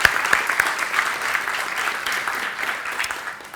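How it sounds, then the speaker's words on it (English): Audience at a local-first software conference applauding, a full burst of clapping from many hands that is loudest at the start and gradually thins out. "a round of applause."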